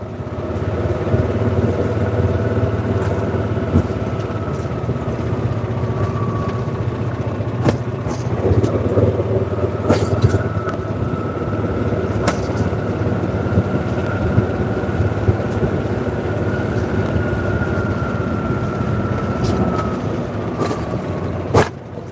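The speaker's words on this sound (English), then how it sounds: "You will hear golf cart noise" A golf cart hums steadily along a route toward a lake landing, with its motor drone and wind rumble continuous and close and some faint clicks and bumps along the way.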